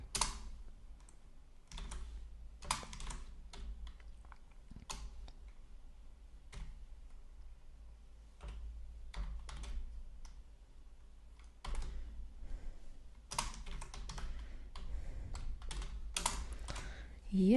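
Keystrokes clatter on a computer keyboard in irregular bursts with short pauses, close and moderately loud, while a low hum runs underneath.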